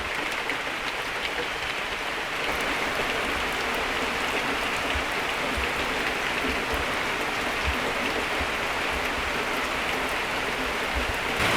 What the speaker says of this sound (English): It's been raining for a good half an hour.